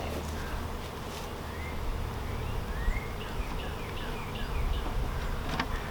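Dense, continuous buzzing of many honey bees close by at a hive, a steady droning swarm with passing individual buzzes, no voices.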